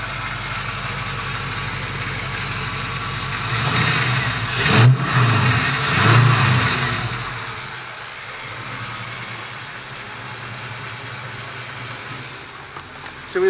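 A Chevrolet Nova's engine idles with a low, lumpy rumble, then revs twice sharply in quick succession before settling back to a steady idle for the rest of the clip.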